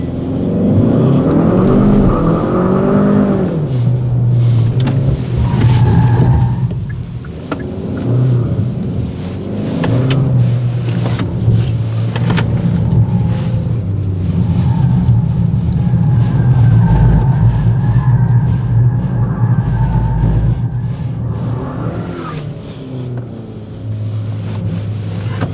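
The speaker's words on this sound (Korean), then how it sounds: "다음 차량 런치 스타트 준비하세요" A Hyundai Sonata N Line accelerates hard from a launch start, its engine a loud, sustained roar that rises and holds steady throughout with no talking over it.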